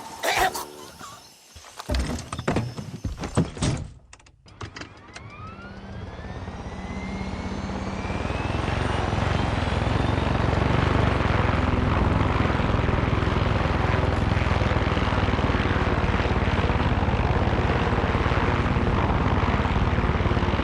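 An enemy helicopter in the Far Cry 6 video game drones overhead, its rotor and engine roar building from faint to loud and then holding steady, after a few sharp clattering sounds at the start.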